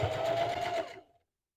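Sewing machine stitching a stuffed, puffy quilted pillow, a steady close whirring hum for about a second before it slows and stops, leaving silence.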